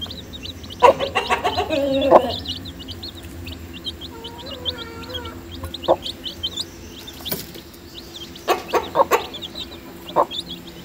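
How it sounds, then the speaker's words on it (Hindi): Ten young chicks peep and chirp in a pen after feeding, bursts of high calls close by with quieter gaps between them and occasional louder clucks, no talking. "हमारे 10 चूजे हो गए।"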